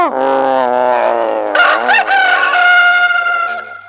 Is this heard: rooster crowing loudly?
yes